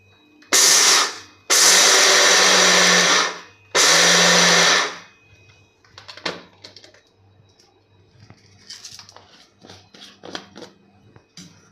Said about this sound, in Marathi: आपल्याला मिक्सरला कसं फिरवायचं की आपल्याला बटन चालू बंद चालू बंद करायचं आहे